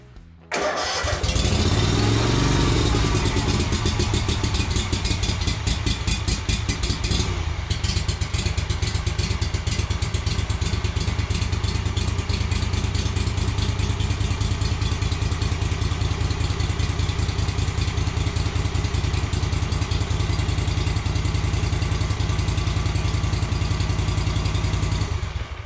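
A Yazoo Kees ZT Max zero-turn mower engine runs at a steady, loud idle close by, with a constant low chugging throb and mechanical clatter, right after a brief cranking start.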